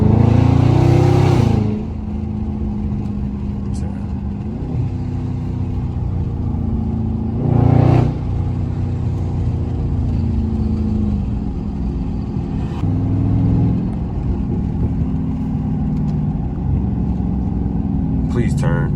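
A Dodge Charger Scat Pack in sport mode, driven on back roads, holds a loud, steady engine drone with three sharp revving bursts spaced several seconds apart, the gear shifts marked by stepping changes in pitch.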